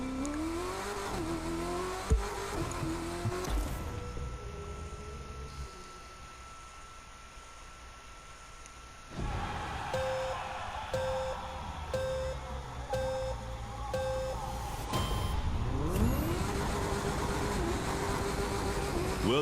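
A street race car in The Crew 2 speeds along a route from St. Louis to Detroit, its engine droning and revving steadily with rising pitch sweeps and beeping game tones over the top.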